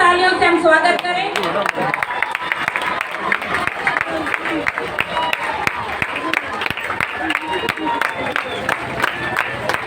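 Loud crowd applause with steady, dense clapping and some cheering at an outdoor Republic Day celebration, greeting a Royal Enfield Bullet motorcycle stunt, with a brief announcer-style voice heard at the start.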